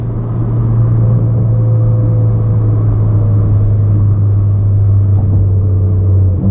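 A Mitsubishi Lancer Evolution X on the road gives a steady, loud engine drone with a constant low hum throughout, heard from inside the car with no talking.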